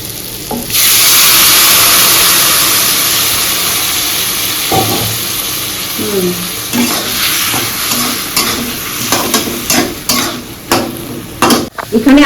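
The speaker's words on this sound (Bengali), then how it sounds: "এখানে একদম আলুটা ভাজা করছি" Potatoes fry and get stirred in a pan: a loud, steady sizzle at first that gradually eases, followed by the clatter and scrape of a spatula against the metal, with no talking.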